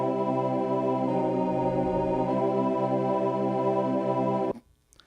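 A sustained vocal harmony in street-quartet barbershop style resolves through a diminished cadence with both voices sliding downward together, held steadily and loudly for about four seconds before cutting off.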